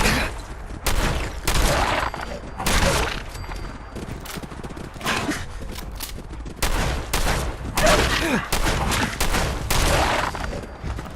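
Combat shotgun fire in Fallout 4 aimed at a wild mongrel: loud blasts repeating in a rapid, uneven volley, each with a sharp crack and short boom.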